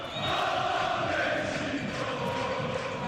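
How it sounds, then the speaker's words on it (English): A football stadium crowd calls out in a steady, distant roar of many voices that holds at an even level throughout. "The crowd knows what he can do, and they are calling for the heat."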